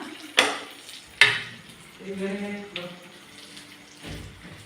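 Capsicum sizzles in hot oil in a pan, with sharp clatters of a utensil against the pan and some stirring and faint background kitchen sounds.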